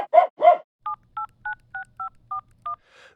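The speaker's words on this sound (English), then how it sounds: "I have to make a phone call." A telephone number is keyed in: seven crisp, evenly spaced touch-tone beeps, close and clear, follow two short vocal sounds at the start, with a faint noise at the end.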